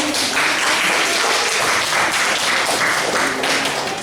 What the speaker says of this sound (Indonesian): Tepuk tangan untuk kelompok Metro Point.